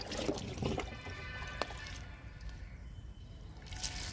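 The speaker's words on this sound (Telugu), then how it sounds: "డబ్బాలో పోస్తున్నా" Liquid plant fertilizer is poured into a can in a soft, faint trickling stream, with a few small splashes and drips against a low background hum.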